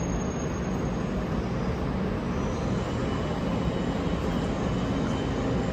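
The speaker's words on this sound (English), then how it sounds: "pulling its way slowly out of the station." Steady, close rumble of a Koblenz passenger train pulling slowly out of a station, a continuous low grinding roll of wheels and cars without voices.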